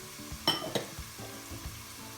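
Slightly watered-down tomato puree hits a hot small pot of masala for Indian restaurant-style base gravy, giving a brief burst of sizzling and a few stirring scrapes before settling to a quiet simmer.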